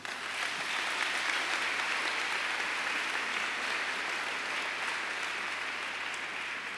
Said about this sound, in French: On peut l'acclamer très fort.